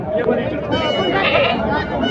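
Local desi goats bleat close by at a livestock market, overlapping with people talking in the background.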